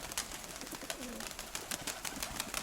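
Pigeons coo softly near nests holding chicks, a low murmuring coo rising once amid a constant bright background hiss, faint and somewhat distant.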